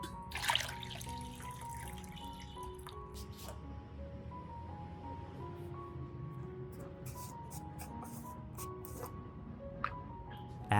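Water trickles and drips steadily into a bowl while lime water is prepared for treating moss on orchids, a soft continuous pour with occasional brighter droplets and faint background sounds.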